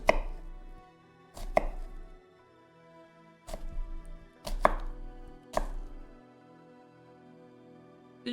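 A knife chops onions on a cutting board in several short bursts of rapid, loud, close knocks separated by pauses, with no talking.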